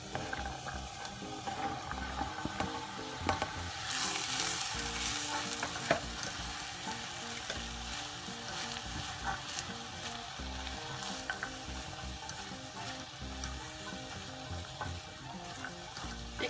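Minced meat with onion, peas, a small potato and half a carrot sizzle steadily in a pan, a soft continuous frying hiss with occasional stirring scrapes and a brief louder burst as the vegetables go in.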